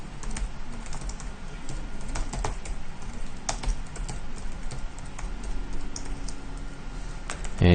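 Computer keyboard being typed on at a steady, fairly quick pace to enter R commands, with irregular clicky keystrokes close by and a louder thump at the end, no talking.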